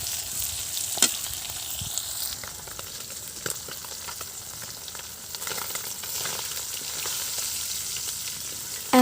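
Small local puti fish frying in oil in a pan over a clay stove, a steady crackling sizzle with occasional sharp pops and a clink at the end, close and continuous with no talking.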